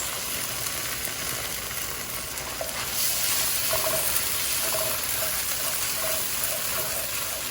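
Green chilies, tomato, ginger and garlic fry in a pan with a strong, steady sizzle and crackle, close and continuous, with occasional light scraping or stirring clicks.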